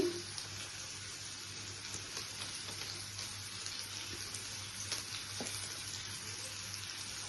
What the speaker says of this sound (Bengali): এভাবে কাশ্মীরি কালার মরিচ দিচ্ছি,